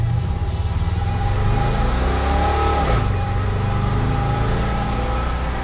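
An old 1948 Chevy pickup truck engine revs hard and accelerates with a loud, continuous throaty roar that climbs in pitch and then drops as it shifts, close by and with no talking.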